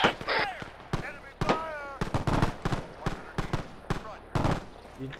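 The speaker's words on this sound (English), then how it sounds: "I thought I heard gunshots." Sharp bursts of gunfire in a World War II Operation Market Garden video game crack repeatedly in an irregular rhythm, some near and loud, mixed with voices talking over the shots.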